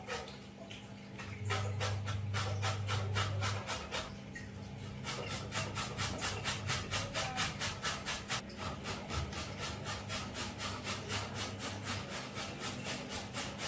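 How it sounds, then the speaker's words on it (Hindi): Large carrots being grated by hand on a grater for carrot halwa make fast, regular rasping strokes, a steady scraping rhythm that runs on for many seconds at moderate loudness with no speech. "सारी गाजर घिस के हमारी हो चुकी है कंप्लीट।"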